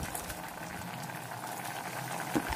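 Mutton curry for a spicy coconut mutton fry boils down in a pan. A constant soft bubbling and sputtering continues throughout, close and fairly quiet, with no voices.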